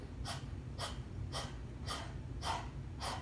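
A person imitates a dog's panting with six rhythmic, evenly spaced breathy huffs about half a second apart, close and distinct, with no talking.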